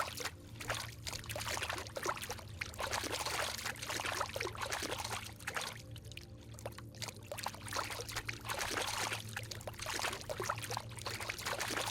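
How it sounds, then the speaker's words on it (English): Flowing, pouring water in the eerie pool rooms of The Backrooms, a loud, continuous splashing rush with steady trickling texture and a low hum beneath, no voices. "That water noise is a little much."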